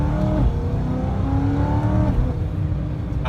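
Supercharged BMW M3 engine revving hard with sharp, firm gear shifts, the pitch climbing and dropping between changes; loud and close, heard from inside the car with no talk.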